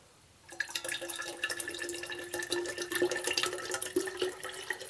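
Coconut water is poured from a carton into a 600 ml bottle for a homemade electrolyte drink, a close, continuous gurgling trickle with small splashes that starts after a brief silence and carries on to the end.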